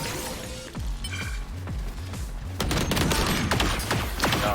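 Rapid gunfire bursts from the video game Valorant, loud and dense with sharp repeated shots over low rhythmic thumps, intensifying into a heavier volley in the second half.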